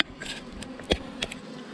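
Honey bees buzzing around a tall beehive, a steady close insect drone with individual bees flitting past the listener, outdoors and with no talking.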